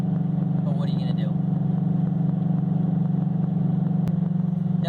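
Subaru BRZ fitted with a Borla unequal-length header climbing uphill in sixth gear, a steady low engine drone holding constant throughout from inside the cabin, with a voice briefly speaking over it.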